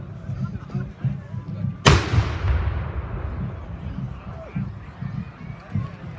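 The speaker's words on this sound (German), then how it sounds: "die Kanonen machen schon ganz schön Kraft." A single loud black-powder cannon blast booms out and rumbles away slowly at a Landsknecht battle reenactment in Delitzsch, over a busy background of crowd murmur and voices.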